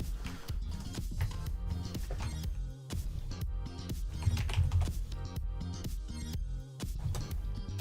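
Steady typing on a computer keyboard, rapid irregular key clicks running throughout at close range, moderately quiet and without speech.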